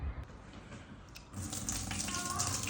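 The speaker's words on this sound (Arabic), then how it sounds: "الحنفية يا مصلحها" Water runs from a repaired household tap, a soft trickle that swells about halfway through into a steady, close rush of flowing water.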